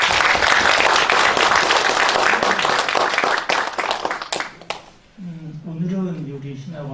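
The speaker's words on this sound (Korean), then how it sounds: "우리 다시 한번 고마움으로 박수하고" An audience at a theology school's closing day claps in thanks, a loud, dense burst of applause that fades out, followed by someone speaking.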